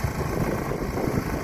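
A 1987 Suzuki SP200 dual-sport motorcycle, freshly tuned, idles a little high with a steady, low mechanical throb, heard alone outdoors in a brief stretch.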